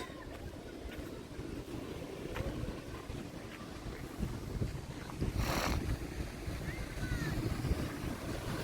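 Wind and sea waves roll steadily against the rocky shore of Thotlakonda beach in Vizag, a continuous broadband rush with one louder surge midway.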